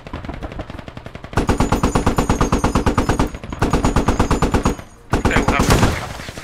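A vehicle-mounted gun in Squad hammers out long, rapid automatic bursts at close range, loud and evenly paced, broken by a short pause before a final burst; a voice speaks faintly underneath.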